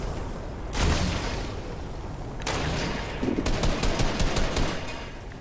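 Video game gunfire rattles in loud bursts, first a rapid volley, then another, followed by a dense run of separate shots close by. No voices are heard.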